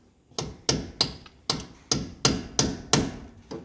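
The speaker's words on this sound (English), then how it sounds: "Hey, look at that, a bigger hammer." Heavy hammer blows knocking a drive shaft U-joint loose during 4104 transmission removal: eight sharp metallic strikes in a steady rhythm, close and loud, each ringing briefly before the next.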